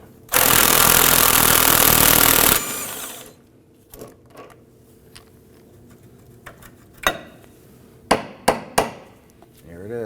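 Loud continuous power-tool whir, like an impact wrench, for about two seconds, then scattered metallic clanks and taps as the rear shock absorber bolt comes out on a 2008-2011 Ford Focus.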